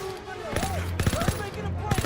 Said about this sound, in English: This is why you keep a machine gun on you.